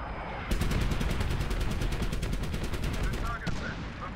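Gunfire in Medal of Honor Warfighter, a steady stream of fast automatic shots with a regular pulsing rhythm lasting about three seconds, loud and continuous, then cutting off with a brief trailing sound.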